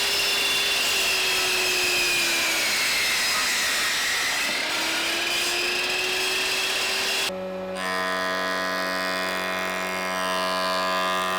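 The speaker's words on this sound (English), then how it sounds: "followed by a light pass on the planer to even out the marks of the table saw blade" A planer makes a light pass on a chair's table-saw-cut tapered leg, a loud, close motor whine that dips in pitch under load and recovers, then cuts off into a different steady tone, with no talk.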